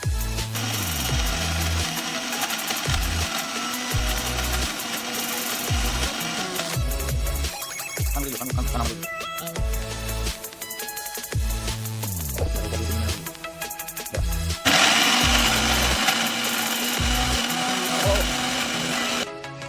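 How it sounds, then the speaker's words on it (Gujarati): A kitchen mixer grinder whirs loudly in bursts as it blends garlic chutney with lemon juice, coriander and cumin, the motor starting, stopping and revving again over about twenty seconds with no talk. "પછી મિક્સરમાં ગ્રેવી કરી નાખવાનું છે"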